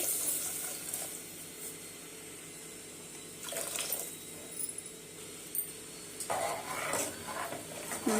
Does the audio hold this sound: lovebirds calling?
no